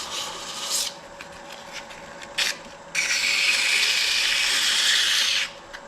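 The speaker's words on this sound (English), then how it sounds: "Just a light sanding on everything" Light hand sanding on a wooden toadstool: short rasping strokes, then one long steady rubbing pass, close and fairly quiet with no talk.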